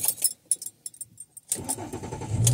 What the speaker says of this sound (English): Just gotta buckle up and crank the car up.